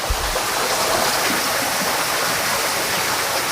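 Water rushes down the hillside at Dhara Lova waterfall in a steady, loud, close roar of broadband splashing, with no voices.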